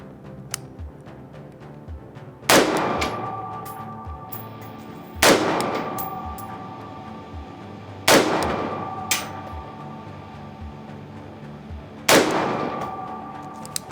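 Four rifle shots fired at a 300-yard target, evenly spaced a few seconds apart, each a sharp loud crack with a ringing tail and no talking between them.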